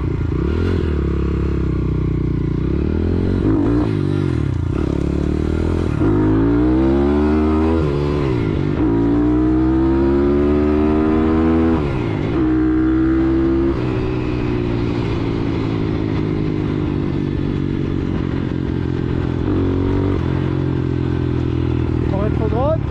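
CRZ 140 and Bastos MXF 150 dirt bike engines roar loudly and continuously, pitch sweeping down in repeated steps as they downshift, the engine note dominating throughout.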